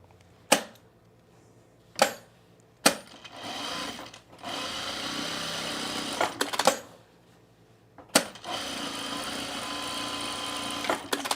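A sewing machine stitches a pocket facing on men's cargo shorts, whirring in several bursts separated by short pauses and sharp clicks, close and fairly loud with no voice over it.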